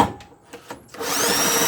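A Kohler engine on a Lawn Boy push mower is spun by hand with the spark plug out. A few sharp pops are followed by a loud, steady whirring rush.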